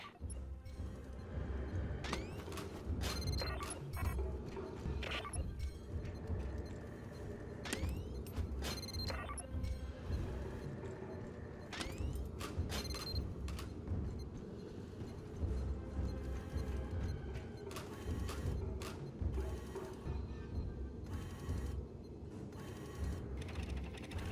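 A door unlocking mechanism in the Aliens Fireteam Elite video game grinds and clanks continuously, with repeated ratcheting and metallic knocks over a dense, low rumbling bed of game ambience.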